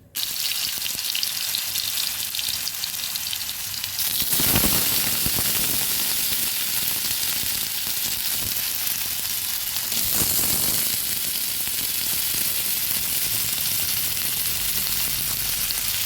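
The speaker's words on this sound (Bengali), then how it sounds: "আর এখানে আমি একটা বড় সাইজের আলুকে ভেজে নিচ্ছি।" A large potato frying in a pan for a vegetarian kabuli chickpea and paneer dish, steady hissing sizzle of hot oil throughout, with brief louder bursts of spatter near the start and again midway.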